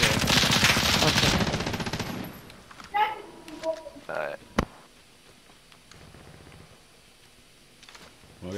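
Machine gun firing in Call of Duty, Verdansk 1984 map, a loud sustained burst of rapid fire for about two seconds, followed by scattered sharper shots and thuds fading into quieter ambience, with voices chattering over parts.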